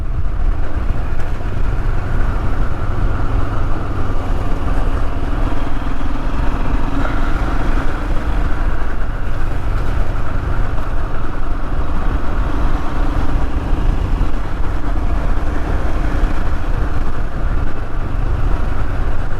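A Royal Enfield Himalayan motorcycle engine runs continuously at a steady, loud drone, a low rumble that stays constant throughout with no voices.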